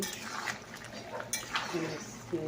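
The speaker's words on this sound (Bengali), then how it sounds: "তো এবারে আমি একটু ঢাকা দিয়ে দিই" Metal clinks and a scrape as a lid goes onto a cooking pot of vegetable curry in a home kitchen, a few light knocks spread over a couple of seconds, fairly close and soft.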